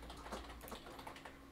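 Fingers tap quickly on a computer keyboard, a close run of light plastic key clicks in an uneven rhythm, alone without speech.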